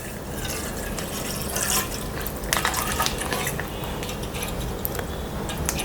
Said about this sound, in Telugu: ముందుగా స్టవ్ వెలిగించి 1/2 లీటర్ చికెన్ పాలు పోసుకోవాలి